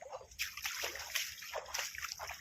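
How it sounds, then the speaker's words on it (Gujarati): Water pours out of a flooded farm field with continuous splashing and sloshing, in close, uneven surges that swell and fade every half second or so. "પાણી તો અહીંથી નીકળતું છે"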